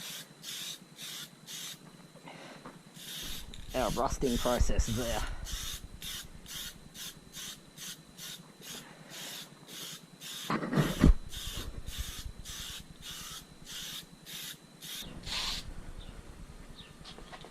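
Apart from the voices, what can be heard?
aerosol spraying acrylic clear coat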